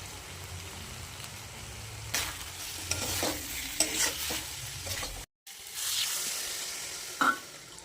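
Prawns with salt, turmeric and ginger-garlic paste sizzle in a pan on a low flame, broken by repeated scraping stir strokes, a brief silent gap, and soft spattering crackle close by.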